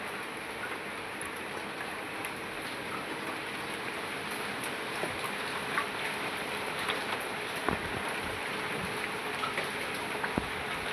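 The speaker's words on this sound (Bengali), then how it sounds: "এই যে সকাল সকাল কি বৃষ্টি নামছে" Morning rain falls steadily as a soft, even hiss, with scattered droplet taps and a few sharper drips standing out against the constant wash.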